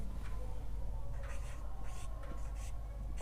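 A pen scratches across paper in short, faint strokes while a math problem is worked out, set against a low steady hum in a quiet room.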